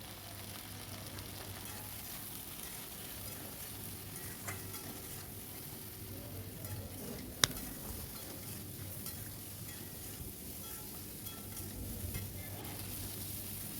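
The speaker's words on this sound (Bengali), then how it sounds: "নুন হলুদ দিয়ে এখন কিছুক্ষণ এটা ভেজে নেব" Okra frying with salt and turmeric in a pan gives a faint, steady sizzle through the whole stretch, with one brief sharp tap of a utensil midway.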